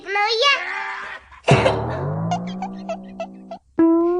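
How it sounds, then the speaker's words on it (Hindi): A woman coughs with a sore throat, a burst of harsh coughs mixed with strained vocal sounds, close and loud, and a voice breaks in briefly at the end. "अरे तेरे गले की खांसी अभी तक ठीक ना हुई है?"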